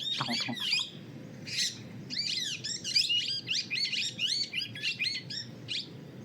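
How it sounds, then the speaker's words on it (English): Small birds chirp and twitter in rapid, high-pitched bursts, several calls overlapping, fairly close against a quiet low background hum. "these are very tiny birds, but they are kind of like emitting so much amount of sound"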